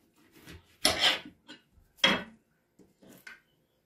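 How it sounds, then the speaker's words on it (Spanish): Green salsa with garlic and onion ground in a stone grinder for rellena, a few short gritty rasping strokes, close and distinct, separated by brief silences. "ahora voy a moler la salsa con su ajo"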